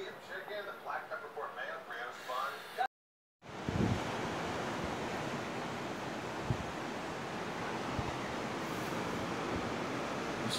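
Waves wash onto a Florida beach as a steady, loud broadband roar with wind buffeting the microphone, following a brief stretch of talk and a moment of silence.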